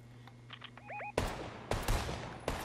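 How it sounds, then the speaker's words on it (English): A few faint chirps give way to quiet video-game gunfire, with sharp cracks and short bursts arriving in three separate clusters over a couple of seconds. "Different people shooting."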